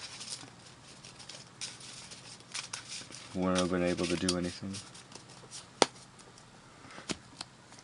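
Rapid riffling patter of Yu-Gi-Oh playing cards being shuffled, a short crisp burst under a voice, followed by a few sharp taps.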